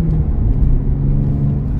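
Nissan 350Z engine revving up under a light press of a very sensitive accelerator, a steady close low rumble and drone from inside the car, with no talk.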